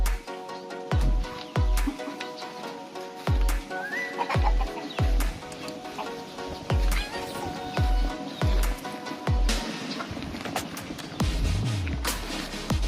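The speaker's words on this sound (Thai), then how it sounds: "มาดูไก่ ปล่อยได้ประมาณหนึ่งเดือนนะครับ" Free-range chickens cluck and chatter close by on a farm, with repeated short low thumps and flutters from the flock running under the steady calling. A rooster is among the birds, and no one speaks.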